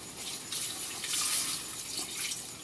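Water running steadily from a kitchen tap while cooking a mussel and salmon-head sour soup, a close, continuous hissing splash with no talk.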